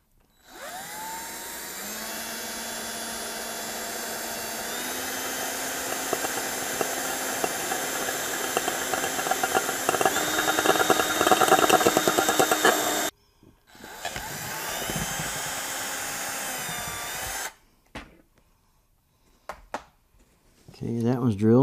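A power drill with a one-eighth-inch bit drilling a Camaro PCV valve whines at high speed, a continuous loud spinning tone with a shift in pitch, stopping briefly, then restarting before falling silent.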